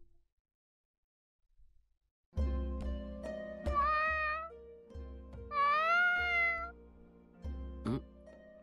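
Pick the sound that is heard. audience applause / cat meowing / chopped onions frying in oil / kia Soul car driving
cat meowing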